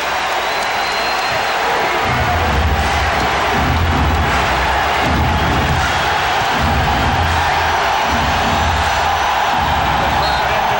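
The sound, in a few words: basketball arena crowd cheering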